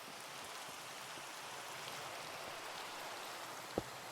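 Steady rain falls in a video game, an even wash of drops with no pauses, plus one brief sharp tap near the end.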